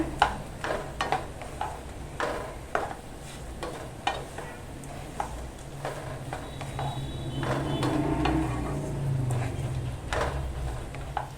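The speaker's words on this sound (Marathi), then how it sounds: "कांदा आपण असा एक मिनटं असं छान परतून घेऊया" Chopped onion and grated fresh coconut sauté in a pan, with a gentle continuous sizzle that grows slightly louder and scattered spatula taps and scrapes against the pan.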